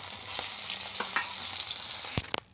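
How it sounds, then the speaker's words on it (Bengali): Fish sizzles in mustard oil in a kadai, a soft steady fry with a few spatter pops and spoon clinks, then louder scraping knocks near the end. "মাছটাকে আমি খুব ভালো করে আমি ভেজে নেব"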